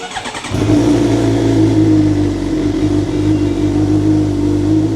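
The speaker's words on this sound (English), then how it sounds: "when you turn the bike on, it seems to idle a little rough" A Suzuki GSX-R750 motorcycle engine catches after a brief crank and settles into a steady, loud idle with a slightly uneven, rough, rumbling pulse, close by.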